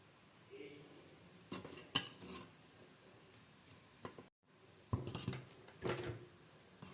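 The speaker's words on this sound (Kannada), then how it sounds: "ಬೆಲ್ಲ ಹಾಕ್ಬಿಟ್ಟು ತಿರುಗಿಸ್ತಾ ಇದ್ದೀನಿ" A spoon stirs jaggery into boiling milk in a pot for village-style ginnu, making quiet, intermittent scrapes and metallic clinks against the pot.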